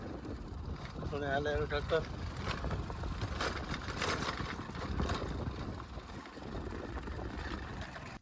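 A tractor engine runs with a steady rumbling drone while a person talks over it nearby.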